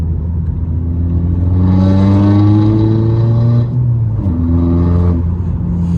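Heard from inside, a Volkswagen car revs and accelerates loudly, engine pitch rising steadily, then dropping sharply at a gear shift before climbing again.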